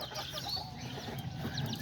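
Small young hens and roosters give scattered, faint chirps and clucks close by, over a continuous low background hum.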